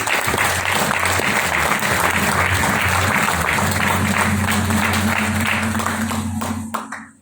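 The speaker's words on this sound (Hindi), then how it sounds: "अंकित उपाध्याय जी के लिए जोरदार तालियां।" Loud, sustained applause fills a hotel function hall during a business seminar, with a low steady hum beneath it, before cutting off sharply at the end.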